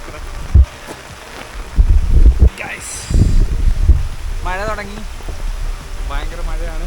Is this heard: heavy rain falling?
yes